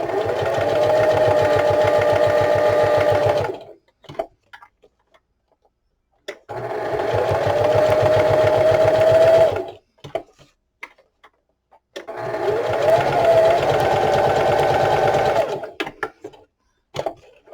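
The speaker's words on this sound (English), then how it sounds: "about this machine, this is the Singer Heavy Duty" A Singer Heavy Duty sewing machine running a straight stitch around the border of a small paper pocket, three loud, close bursts of rapid mechanical whirring, each a few seconds long, separated by near silence.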